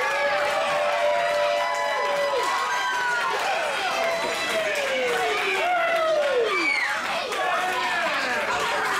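A wrestling crowd cheers and roars steadily through the arena after a wrestler's dive over the top rope carries him into the audience, the noise dense and continuous with loud voices and whistle-like shouts rising throughout.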